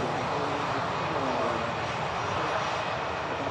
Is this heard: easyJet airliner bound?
yes